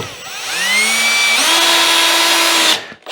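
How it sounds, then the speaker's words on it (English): A cordless drill drives a 1 1/4 inch screw through plywood into a wooden top cleat, its motor whining up steadily and loudly for a couple of seconds before cutting off abruptly. "Use my drill, which isn't as nice as my screw gun, for this."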